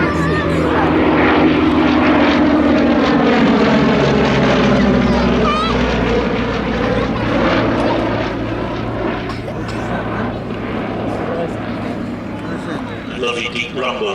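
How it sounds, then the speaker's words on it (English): A Westland Lysander passes with the deep, steady rumble of its Mercury radial engine and propeller, loud and close at first, then easing slightly as it moves off, while someone commentates throughout. "A lovely deep rumble of the Mercury engine up front on the Lysander"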